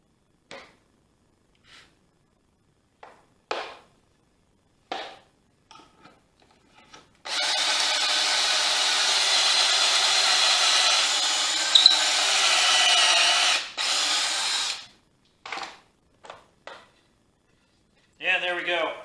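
A drill whirs steadily into wood through a pocket hole jig for several seconds, preceded and followed by short clicks, knocks and handling sounds in a quiet room.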